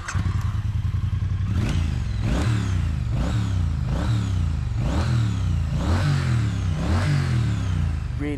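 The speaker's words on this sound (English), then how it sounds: "Really lovely engine. It kind of thuds and vibrates through the bike, but not vibrating in an annoying way." A 2022 Triumph Bonneville T100 twin engine revs repeatedly in a steady rhythm, each blip rising and falling over a loud, thudding low idle, close and without any talk.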